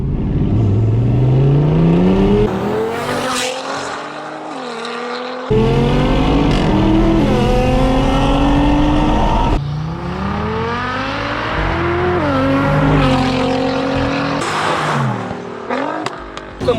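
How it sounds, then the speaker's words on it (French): A 700 hp Nissan GTR and a 700 hp Audi RS6 roar hard from a rolling start in second gear at 30 km/h, engines climbing in pitch through repeated upshifts. The loud, close engine noise runs without pause and has no voices. "là on va faire le départ lancé en deuxième à 30 km/h contre la RS6"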